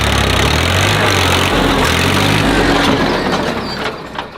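A tractor engine with a rotavator attached idles steadily on a farm field, a loud, continuous low rumble that stays close and constant before easing slightly at the end, with no talking.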